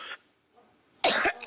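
A woman coughs on a TV talk show set, a short hack at the start and then a louder, closer burst of two or three coughs after a pause, with no talking.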